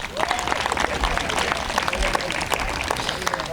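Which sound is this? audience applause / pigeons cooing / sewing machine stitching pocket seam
audience applause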